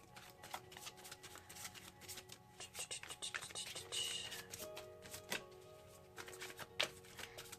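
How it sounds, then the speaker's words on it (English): Tarot cards being shuffled and pulled by hand, a quiet, close run of quick papery riffles and flicks in irregular bursts, with soft handling noises between them. "Next, let's pull a Miracles Now card."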